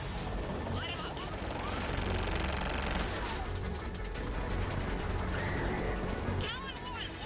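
Aircraft weapons opening fire on ground targets in Mass Effect 3, a loud, sustained barrage of rapid shots with booming impacts, whining jet engines and radio chatter beneath.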